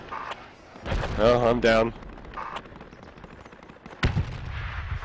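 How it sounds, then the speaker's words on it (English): Mortar fire in the military shooter Project Reality: distant booming impacts, one cluster early and a sharp close blast near the end, mixed with a shouting voice and brief talk over the shelling. "The mortars are chasing us as we're trying to run away."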